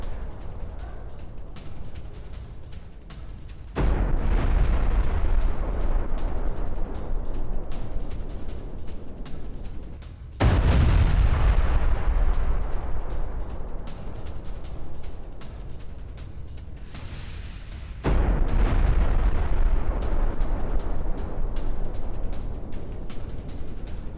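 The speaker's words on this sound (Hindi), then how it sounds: "24 घंटे में हूती के 2 ड्रोन बोट से हमला हुआ, ये देखिए जरा, राहुल जरा तीनों ब्रेकिंग, तीनों शॉट दिखाइए" Explosions from a Houthi drone boat attack hit in three heavy booming blasts, each starting suddenly and fading into a long rumbling roar.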